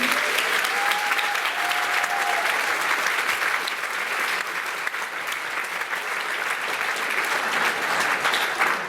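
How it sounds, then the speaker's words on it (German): Sustained audience applause fills a school variety show put on by a 2023 graduating class, dense and steady throughout with no speech over it. "Und bis dahin noch einen großen Applaus für Till und seine bezaubernde Katrin."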